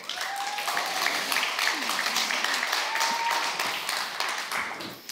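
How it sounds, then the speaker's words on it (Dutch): A crowd applauds with steady, dense clapping at a political debate, carrying on at an even level for several seconds. "Geef ze een warm applaus."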